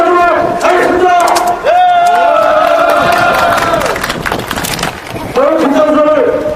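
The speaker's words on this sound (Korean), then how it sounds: "여기 참여하신 모든 분들의 힘찬 함성과 박수로 시작하도록 하겠습니다" At a Samiljeol commemoration ceremony in Gyeonggyojang, a large crowd roars with loud sustained shouts and cheering, with applause mixed in, filling the space continuously with a brief dip partway through.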